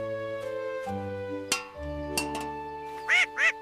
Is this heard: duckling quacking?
yes